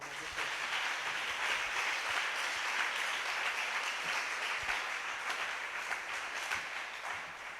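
A church congregation applauds during a French-language prayer and fasting service, with steady, sustained clapping heard from a distance at a moderate level.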